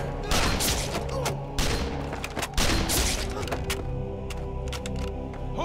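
Gunfire in a war film about fighting the Japanese: dense volleys of rifle and machine-gun shots crack in rapid, uneven bursts, loud and close, with shouting voices mixed in.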